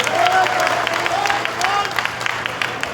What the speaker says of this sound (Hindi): बहुत जोरदार तालियां इसके लिए।